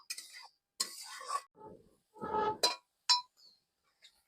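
Mushrooms are stirred and fried in a cooking pan, with a utensil giving sporadic metallic clinks and scrapes against the pan. Brief quiet gaps separate the irregular close-up contacts.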